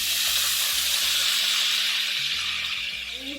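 Tomatoes hit hot masala in a frying pan for Bombay-style pav bhaji, raising a loud, continuous hiss that slowly eases off, with no talk.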